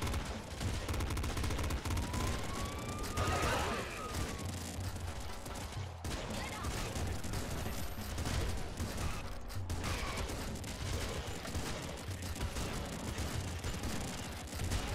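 Gunfire in Nuclear Throne, a dense, unbroken barrage of rapid shots and blasts lasting throughout, loud and layered with other game effects.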